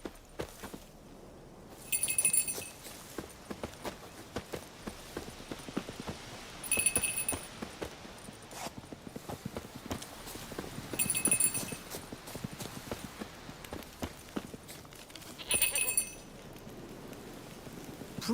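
Soft, steady clip-clop of a horse's hooves in Witcher 3, a quiet continuous walking rhythm with brief bright chiming accents recurring every few seconds and no talking.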